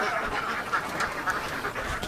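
A large flock of Khaki Campbell laying ducks, some 700 birds kept on a small plot, quacks in a close, continuous chorus, with louder individual calls popping out of the busy din.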